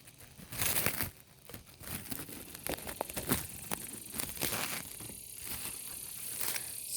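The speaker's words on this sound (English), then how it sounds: "This isn't taped down, so now the wind's blowing it." Loose, untaped emergency cover material on a car window flapping and crinkling in the wind, close by, in irregular rustling bursts and rattles that keep going without pause.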